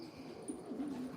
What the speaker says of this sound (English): Beautiful pigeon this one is.